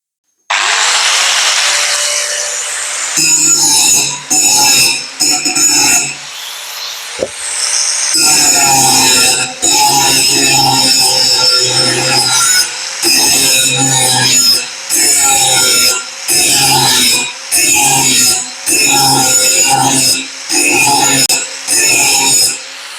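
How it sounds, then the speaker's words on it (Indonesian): A DCK KSM13-100 angle grinder grinding a bevel into metal, a loud, steady high-pitched whine that rises and dips in a repeating rhythm as the disc is pressed and eased across the workpiece. "Lanjut ke menggerinda bevel atau menggerinda sudut ya."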